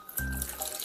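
Water is poured into a glass for a Halloween party shot, a brief soft splash with a low liquid gurgle, faint and close.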